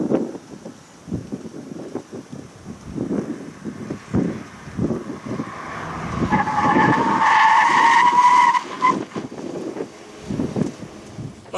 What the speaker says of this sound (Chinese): 在经过了多次的反复刹车和预热测试之后呢